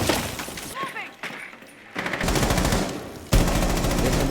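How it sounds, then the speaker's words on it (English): Rapid gunfire bursts from a competitive first-person shooter esports grand final match, dense repeated automatic shots filling the clip, loud and continuous after a brief lull, heard under a caster's commentary. "Trying to get some shots off over there."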